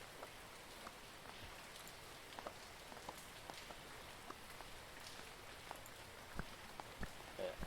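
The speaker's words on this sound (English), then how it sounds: "just turn down the rain sounds" Quiet rain ambience plays in the background of a relaxed pixel-game session: a soft, steady hiss of rainfall with scattered faint drop ticks and no voices.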